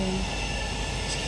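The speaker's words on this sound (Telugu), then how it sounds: "ట్రైన్ వస్తుంది." A train passes nearby, giving a steady loud rumble and rolling rail noise across the short moment, with no talk over it.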